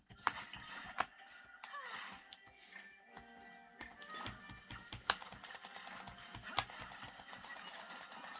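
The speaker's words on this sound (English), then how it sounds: "I'm just clicking buttons at this point." Rapid clicking of buttons while playing Genshin Impact: a quiet, irregular stream of close keyboard-like taps and clacks, a few sharper than the rest, with no speech.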